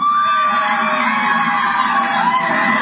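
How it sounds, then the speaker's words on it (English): Supporters of a residential hospice in Exeter, Ontario let out loud, excited screams and whoops together in a room, one continuous burst of shrill group yelling that lasts a few seconds. "Screams of excitement filled the room."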